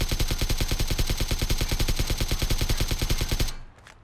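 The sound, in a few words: gunfire shooting at the loot truck in PUBG video game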